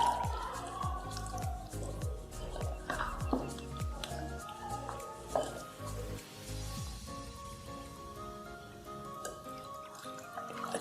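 Wet, squishy mixing of a burger marinade in a bowl, with repeated soft drips and squelches in an uneven rhythm, close and moderately loud against a faint background hum.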